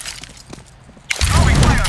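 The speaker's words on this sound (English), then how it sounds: "Throwing a flashbang." A flashbang grenade goes off in CS:GO as a sudden loud, bright burst after a second of quieter game ambience, then holds as a dense ringing wash.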